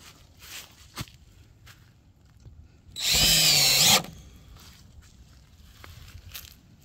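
A power drill drives screws while a high tunnel is installed outdoors, one loud whirring burst of about a second amid quiet footsteps and faint knocks.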